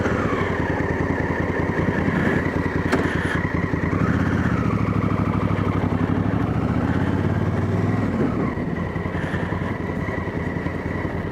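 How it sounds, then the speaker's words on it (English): A Honda Africa Twin motorbike rides slowly into a bush campground, its engine a steady close rumble that swells under throttle midway then eases back to a lower putter, with no talk. "They're up here in the wilderness and a motorbike turns up."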